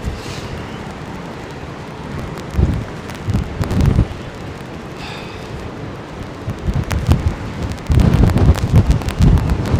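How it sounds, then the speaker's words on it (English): Strong storm wind buffets a microphone at Heathrow Airport during Storm Franklin, a steady roaring rumble with heavier gusts surging around three seconds, four seconds and from eight seconds onward. "the camera mic would be an absolute bleeding nightmare in this wind, mate"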